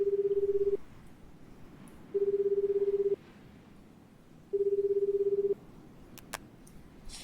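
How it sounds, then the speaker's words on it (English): A phone call in the video game 428 Shibuya Scramble rings out unanswered: three long steady electronic ring tones separated by pauses, clean and loud, followed by a few faint clicks. "he got at his phone and called the detective"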